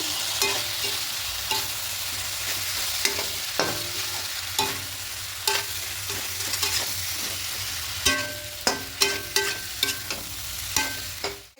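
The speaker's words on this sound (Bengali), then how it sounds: "এবার এখানে সমস্ত ভাজা সবজিগুলো দিয়ে দেবো সোয়াবিন আলু আর পটল" Steady sizzling of potato, pointed gourd and soybean frying in a pan, with a spatula scraping and tapping in irregular strokes, growing busier toward the end.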